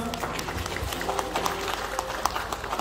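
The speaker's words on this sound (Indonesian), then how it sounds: "Tepuk tangan dulu buat kita semua." Audience clapping at a community gathering in Palu for people with disabilities, brisk claps and cheering from a nearby crowd, with some voices and shouts mixed in.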